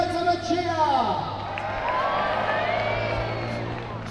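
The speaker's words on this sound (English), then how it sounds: "Let's have a cheer!" A crowd cheers and whoops at the Battle of Peasholm naval reenactment in Scarborough, England, a broad sustained roar of many voices outdoors with an amplified announcer's voice fading underneath.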